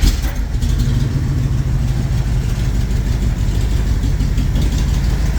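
Jeep J10 pickup engine idling after idle and idle mixture screw adjustments, a steady close low rumble holding even throughout with no other sounds.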